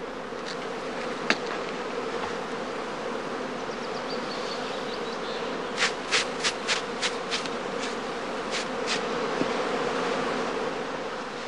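Honeybee swarms around straw skeps, a dense, steady buzzing drone close by, with a few sharp clicks and taps in the middle.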